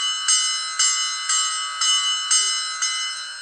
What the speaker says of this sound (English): then you have the bell